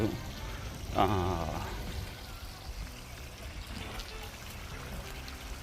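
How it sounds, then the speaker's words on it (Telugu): Small water fountains at a structure in a public center in the USA splash and pour steadily, with a louder gush near the start that settles into a continuous, moderately distant stream. "ఏదో చిన్న స్ట్రక్చర్ కూడా పెట్టారు ఇక్కడ, వాటర్ ఫౌంటైన్స్."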